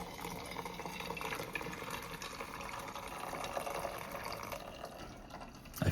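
Just-boiled water pours from a kettle into a Stanley pour-over coffee maker, a steady close trickle and gurgle of filling liquid running for several seconds and ending in a few light clunks.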